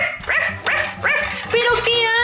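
Cartoon puppy in a children's video game barking and yipping in a quick run of high, bright yaps, then a longer whining call, loud and close.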